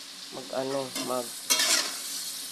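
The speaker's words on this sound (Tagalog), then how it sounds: "nilahalo-halo pa ni Mami Angel kasi nandun yung gulay-gulay na onte" Pancit canton noodles with vegetables are stirred in broth in a pan, giving close scraping and swishing strokes with a soft sizzle and a brief squeaky scrape partway through.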